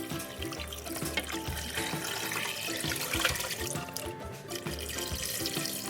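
Water pours steadily into a pot holding meat, bones, bay leaves and peppercorns for a traditional meat broth, a continuous splashing gush close by with no talk.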